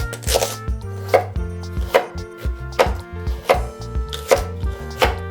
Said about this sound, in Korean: 당근 1개를 큼직하게 잘라주세요.